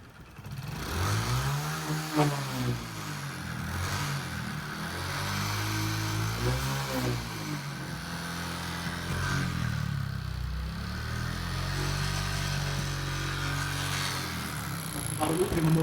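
A Honda Biz 125 motorcycle engine runs with an abnormal knocking noise, idling and revving in several swells at close range, over a persistent rattling background.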